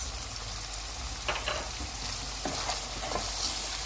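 Black pepper, salt, white cumin, dried coriander and soy sauce sizzle in a pan as they are stirred, a steady close frying hiss with a few scraping bursts of the spoon and no talking.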